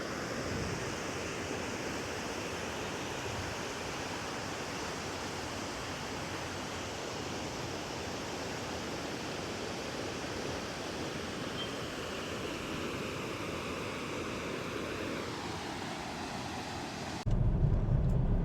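Fast-rushing water at Lolla Lakulu near Atreyapuram, a steady broadband roar that continues unbroken for nearly the whole stretch and then cuts off abruptly near the end.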